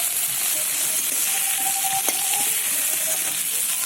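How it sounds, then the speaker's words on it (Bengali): Onion frying in hot oil in a pan, a loud, continuous hissing sizzle heard up close with a brief clink partway through and no talking. "টমেটোটাকে তুলে নেব পেঁয়াজটা আরেকটু বাকি আছে"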